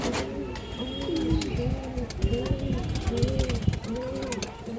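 Full-down-shape pigeons of the Khaki, Chila and Bagha breeds coo steadily in repeated soft, low rolling calls, close by, with faint chirps and murmured human voices in the background.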